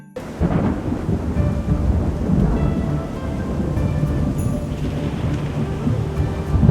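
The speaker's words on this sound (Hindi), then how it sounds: "अरे कितनी तेज हवा चल रही है। इस बारिश में कोई पेड़ गिर न जाए।" Steady heavy rain with strong wind and a deep rumbling thunder undertone in an animated cartoon, a loud, continuous storm wash that swells slightly toward the end.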